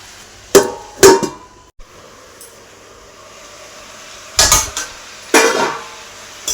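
A metal lid set onto a cooking pan of mixed vegetables in a home kitchen, with a couple of sharp clanks, a quiet stretch, then two more clattering knocks.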